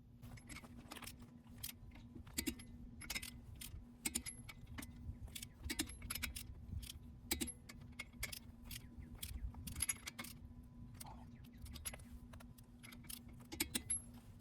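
Rapid metallic ratcheting clicks come in repeated bursts, close by, as a torque wrench tightens wheel bolts on a Toyota GR86 fitted with wheel spacers, over a faint steady hum.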